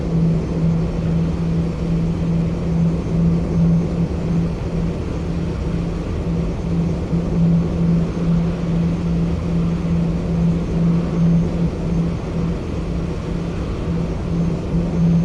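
Boeing 737-800 engine spooling up in a Roblox flight game: a steady, loud, unbroken roar with a constant droning hum holding level throughout.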